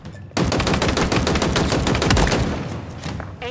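Rapid automatic weapon fire in Halo Infinite, a loud, continuous burst of closely spaced shots lasting about three seconds after a short quiet lead-in, with no talking.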